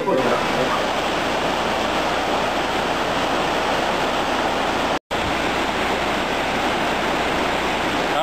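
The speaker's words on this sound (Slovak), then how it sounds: "Nachádzame sa pri najznámejšej raftovej a kajakárskej rieke Bela, ktorá tečie spod Kriváňa do Liptovského Hrádku." The Belá, a rafting and kayaking river flowing down from Kriváň toward Liptovský Hrádok, gives off a steady, loud, broad rush of water that fills the whole stretch, broken only by one momentary cut.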